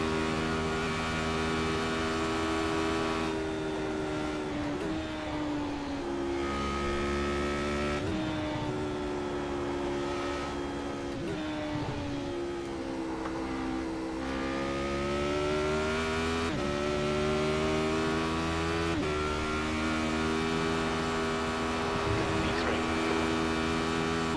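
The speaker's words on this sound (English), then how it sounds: "Try and get the engine noise balanced right there." A race car engine in the iRacing simulator, in a Skip Barber or Radical car, holds a loud sustained drone that climbs and drops through repeated gear changes, with no talk over it.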